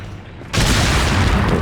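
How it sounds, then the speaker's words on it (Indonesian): A sudden loud boom from an explosion in the video game Resident Evil 4 erupts after a brief quieter moment, then a dense, sustained roar of blast noise fills the rest of the clip. "Meledak."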